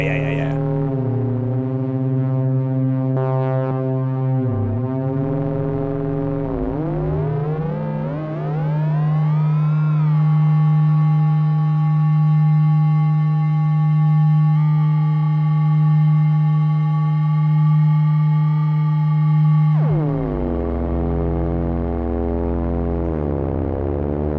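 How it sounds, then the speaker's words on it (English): A Eurorack modular synthesizer sine wave oscillator holds a steady loud tone that swoops upward in pitch, hovers with slight wavering, then drops sharply near the end, sustained and electronic with no voices over it. "I'm going to take a sine wave out, or sawtooth wave out."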